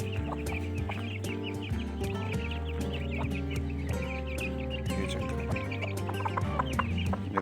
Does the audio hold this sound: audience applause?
no